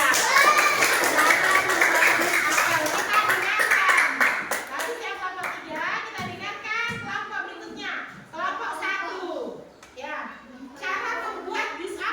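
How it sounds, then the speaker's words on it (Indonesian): Schoolchildren in a classroom clap together for a group, a loud burst of applause lasting a few seconds before giving way to children talking. "tepuk tangan untuk kelompok 3"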